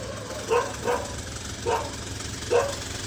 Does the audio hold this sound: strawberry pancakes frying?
no